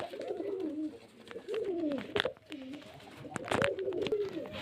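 Pigeons coo in soft, rolling throaty phrases, several calls in succession, fairly close, with a few sharp clicks and rustles between them.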